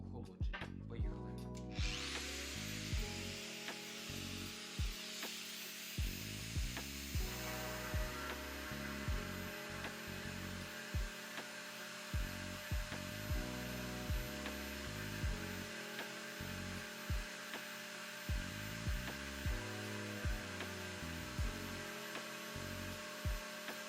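A 6 mm hole being drilled into porcelain stoneware tile, a steady grinding drill whine with rhythmic pulses and periodic bumps repeating through the cut, close and continuous.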